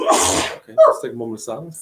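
A single loud, sharp sneeze bursts out at the start, followed immediately by a person speaking close by.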